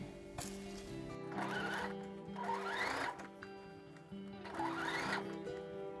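Domestic sewing machine stitching a seam on a child's dress, a rapid mechanical whirring chatter in several short bursts separated by brief pauses, close and fairly quiet.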